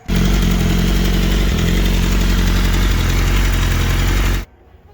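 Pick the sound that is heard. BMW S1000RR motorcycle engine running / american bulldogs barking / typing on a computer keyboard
BMW S1000RR motorcycle engine running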